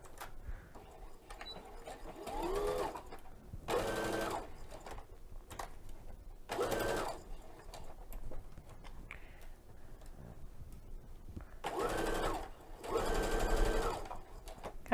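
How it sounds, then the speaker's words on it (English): A sewing machine with a cording presser foot stitches along a cord in several short, loud bursts of rapid mechanical chatter, separated by quiet pauses with faint handling noise. "I just want to sew right up next to it."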